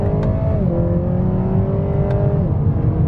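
A 2019 Acura ILX A-Spec with a K24 engine and 8-speed dual-clutch transmission accelerates in manual mode, its loud steady engine drone dropping in pitch at two quick, crisp upshifts.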